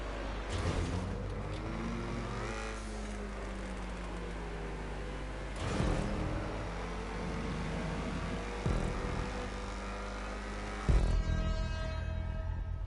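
The Ocelot XA-21 supercar's engine drones steadily through a video game race, a sustained revving whine with rising and falling pitch sweeps and a few louder surges, with no talk over it.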